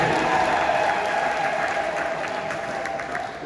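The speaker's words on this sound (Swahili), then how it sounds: "Hebu makofi mengi kwa ajili ya uwepo wa Yesu katikati yetu." A church congregation at a joint Pentecost Mass applauds with a loud, sustained round of clapping, while a faint steady tone hums underneath and the crowd murmurs softly.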